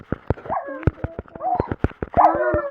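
Dogs in a zombie video game bark and yip repeatedly at close range, with overlapping whimpering howls and sharp clicking hits between the barks.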